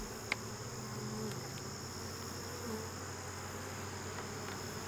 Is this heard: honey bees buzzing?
yes